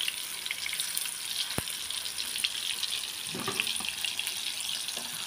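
Tofu deep-frying in hot oil, a steady close sizzle and crackle with a few sharp pops, running continuously without talk.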